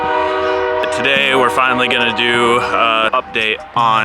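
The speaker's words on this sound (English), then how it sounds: "Sorry for the train in the background." A train horn sounds in the background throughout, loud and sustained with shifting blasts, under someone talking in the foreground at close range.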